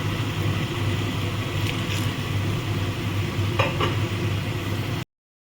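Spice masala for a katla fish kofta curry sautéing in a pan with salt and a little water, a steady low sizzle running throughout with a few faint utensil scrapes and clinks near the end.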